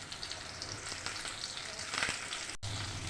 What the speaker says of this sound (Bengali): এবার মাছটাকে ভালো করে ভেজে নেব